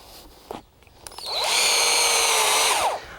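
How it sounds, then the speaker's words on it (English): A power drill spins up after a few clicks, whining loudly and steadily for over a second as it bores through timber, then winds down. "then we're going to drill a hole through the timber"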